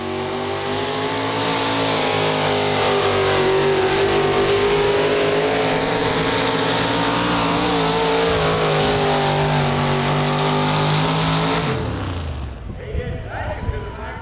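A naturally aspirated fuel-injected engine with no turbos or bottles revs hard and steadily through a long pull for about twelve seconds, loud and close, before the note drops away abruptly.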